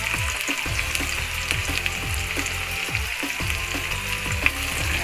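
Garlic sautéing in oil for a water spinach stalk dish, a close, constant sizzle with crackling pops and occasional stirring, no voices.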